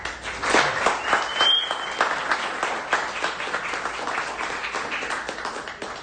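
An audience applauds steadily and loudly to welcome a speaker, Dean Campbell, at the Greer Heritage Museum; dense continuous clapping with a faint hum of crowd noise.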